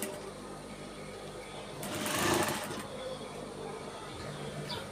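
A sewing machine stitches a dress collar in one short, quiet burst of rapid whirring, surrounded by faint room noise, with no talking.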